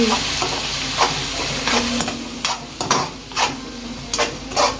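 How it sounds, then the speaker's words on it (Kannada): Chopped onion frying in hot oil in a pan for chana masala, with a steady close sizzle and repeated scraping stirs of a spoon every half second or so, no talk. "ಉಳ್ಳಾಗಡ್ಡಿ ಹಾಕೊಂಡ್ಬಿಡೋದು ಹಾಕೊಂಡು ಎಣ್ಣೆ ಒಳಗೆ ಚಲೋತ್ತೆ ಫ್ರೈ ಮಾಡ್ಕೊಂಡು"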